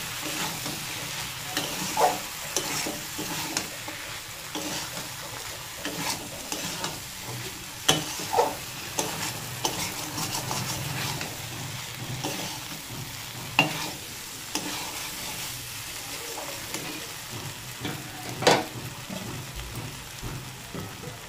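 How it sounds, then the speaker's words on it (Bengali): Boiled peas and potatoes stirred and sautéed with spices in a pan for ghugni, with steady sizzling frying and repeated scraping stir strokes throughout, fairly close and moderately loud, with no talking. "মশলার সঙ্গে ভালো করে কষিয়ে নেব।"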